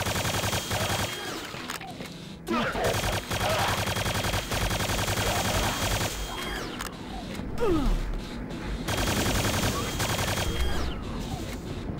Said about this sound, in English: Oh, how I love the Hyper Blaster.